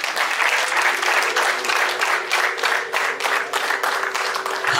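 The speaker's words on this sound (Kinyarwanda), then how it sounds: "amashyi menshi." A crowd at a Rwandan traditional wedding ceremony claps in loud, sustained applause. The dense clapping runs steadily for several seconds without letting up.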